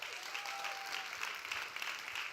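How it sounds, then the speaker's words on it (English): Steady applause from a room full of people, even and sustained throughout, heard from some distance. "round of applause for Lauma."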